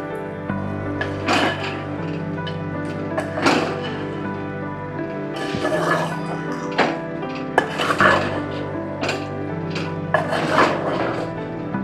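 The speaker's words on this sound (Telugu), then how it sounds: "ఈ మసాలా మొత్తం చికెన్కి బాగా అయ్యేటట్టు మొత్తం కలుపుకోవాలి" A spoon scrapes and clanks against a pot as masala is mixed into raw chicken for curry, irregular metallic knocks and scrapes at close range with no talking.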